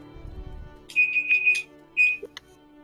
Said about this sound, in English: Sorry, guys, that was my pager.